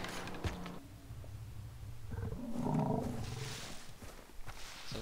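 In the Far Cry 3 video game, a tiger lets out a deep, rumbling growl that swells in the middle and fades, amid low jungle ambience and faint thuds.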